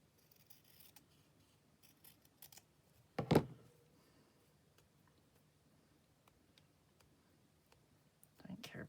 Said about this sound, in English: I'll get my fabric scissors,